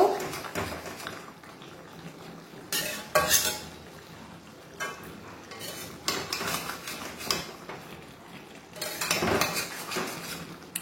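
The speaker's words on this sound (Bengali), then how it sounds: "এবার হালকা হাতে আস্তে আস্তে নেড়ে দেব" Lentil fritters (bada) gently stirred in a ridge gourd curry, with soft, intermittent clinks and scrapes of a spoon against the pot and a low, steady background simmer, no talk.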